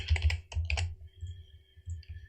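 Fast clattering keystrokes on a computer keyboard come in quick bursts, then thin out into sparser taps over a faint steady hum.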